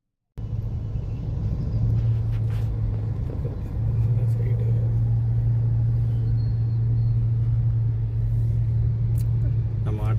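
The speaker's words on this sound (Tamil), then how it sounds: "டிராஃபிக் செமையாக இருக்குதா வேறு வழியே இல்லை டிராஃபிக்கில் நின்று போய் தான் ஆகணும்" Constant low rumble of road traffic in Chennai, with cars and buses idling and creeping along in a dense jam, a steady engine drone close by that continues throughout.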